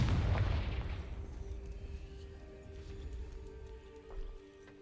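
A heavy fiery blast from the Confringo spell in Hogwarts Legacy, booming at the start and then decaying into a long rumbling tail with faint crackles, no voices over it.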